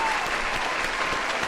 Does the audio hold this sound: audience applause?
yes